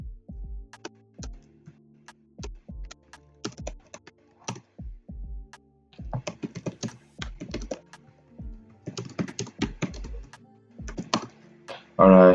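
Close, crisp keystrokes on a computer keyboard arrive in irregular bursts and short pauses as someone types freely into a design program. No voices are heard.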